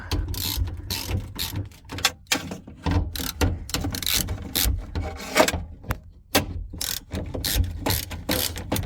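A hand ratchet clicks rapidly in uneven bursts while loosening 10 mm bolts on a 1996-2000 Honda Civic fuel tank assembly. The clicking is close and steady, with short pauses between strokes.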